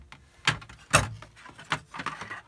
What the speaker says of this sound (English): Pull my drawer.